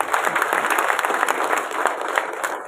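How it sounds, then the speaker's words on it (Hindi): An audience at a large gathering during a Buddhist festival in Sirpur breaks into loud, dense applause, many hands clapping steadily for a few seconds with no voices over it. "तो तालियां तो बनती भाई।"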